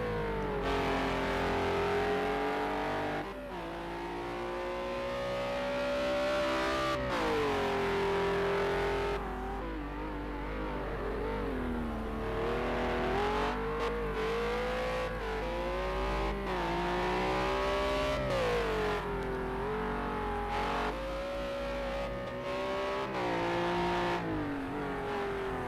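An Acura race car in a racing game lapping Laguna Seca, its engine droning loudly and steadily throughout, pitch rising and falling through repeated gear changes and corners, with no talk over it.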